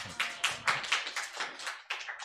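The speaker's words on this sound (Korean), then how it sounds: "용빈이한테도 박수 한번 쳐주시고." A young adults' church group in a Korean worship gathering claps together in a steady rhythmic beat, about nine distinct, fairly close claps in a row.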